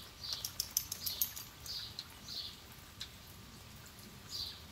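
Rain falls outdoors where a dog sits, with light, sparse drops pattering irregularly against a faint, hissing background.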